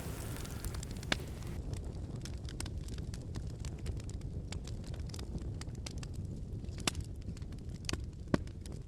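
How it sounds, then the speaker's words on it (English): Flames of a wood fire burn with a low, steady roaring rumble, broken by occasional sharp pops and crackles, in a quiet outdoor setting with no talking. "I can hear the flames, not the crackling of the wood, the burning of the flames"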